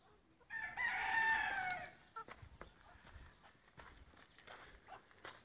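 Chickens in a backyard coop of mixed hens, including bantams and a naked-neck hen, with a loud close crow-like call near the start, then scattered clucks, shuffling and footstep-like rustles at low level.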